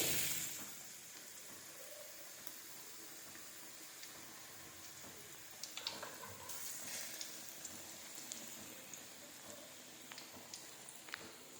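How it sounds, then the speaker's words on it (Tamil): Banana fritters coated in batter deep-frying in oil: a soft, steady sizzle runs throughout with small crackles and pops, with no one speaking. "இப்போ நம்ம மீதி இருக்க மாவையும் மீதி இருக்க வாழைப்பழத்தையும் எண்ணெயில் முக்கி போட்டுருணும்"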